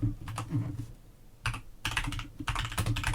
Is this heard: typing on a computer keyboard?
yes